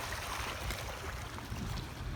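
Strong wind buffets steadily with a rough, blustery rush at a coastal seawall with the tide coming in, mixed with low rumbling gusts and a hint of water, loud and continuous.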